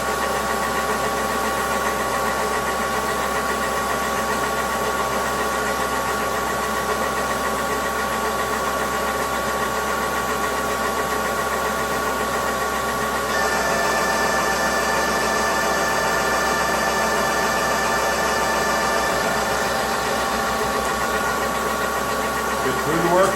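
A manual milling machine cutter works through a workpiece with a continuous loud, droning mechanical hum and a slight change in tone partway through, while a person talks over it.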